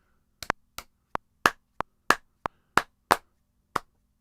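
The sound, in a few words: hands clapping on the off beat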